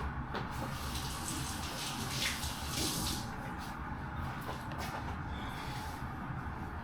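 Hands are rinsed under a running kitchen tap, a continuous close hiss and splash of water that stays steady throughout with no talking.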